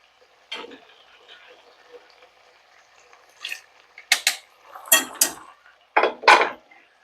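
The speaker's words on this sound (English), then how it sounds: "Give it a stir and let it reduce." Risotto stirred in a pot with a spoon, a series of close scraping and clinking strokes bunched into short bursts, with quiet gaps between them.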